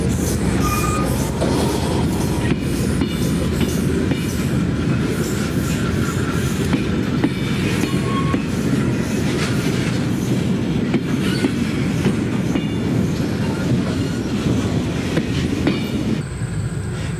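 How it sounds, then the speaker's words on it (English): Monongahela Railway freight train led by two 840 CW locomotives arriving at the Blacksville No. 2 mine, a steady loud rumble of engines and rolling cars with wheel clatter and occasional squeal throughout. "Two 840 CWs arrive with the train at the Blacksville No. 2 mine."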